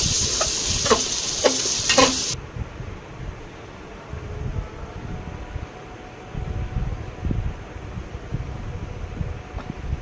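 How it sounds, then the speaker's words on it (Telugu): Tomato masala frying in oil with yogurt added for jackfruit biryani: a loud, bright sizzle with stirring scrapes for the first couple of seconds, then a quieter, low bubbling fry that continues alone. "ఇప్పుడు పెరుగు కొద్దిగా యాడ్ చేసి ఫ్రై చేసుకుందాము"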